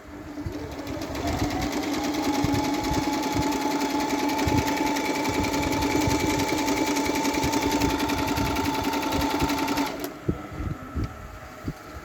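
A Janome N572 mini sewing machine whirs steadily through a triple stitch, a loud, close, continuous motor hum with rapid needle clatter for about ten seconds before stopping, followed by a few light clicks.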